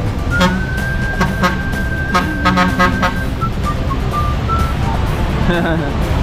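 Repeated short car horn toots sound along a busy Dumaguete street amid steady traffic noise, with people talking over the scene.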